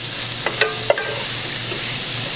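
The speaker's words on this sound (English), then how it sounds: "But you keep stirring the pan." Onions fry over medium heat in a heavy-bottomed pan, a steady close sizzle broken by a few sharp metallic scrapes and taps from the stirring spoon.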